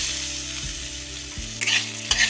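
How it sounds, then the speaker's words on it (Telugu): Low sizzling of thinly sliced onion frying in a pan with some stirring scrapes, steady and close, with brief brighter bursts of hissing near the end. "మొత్తం బాగా ఫ్రై చేసుకోవాలి."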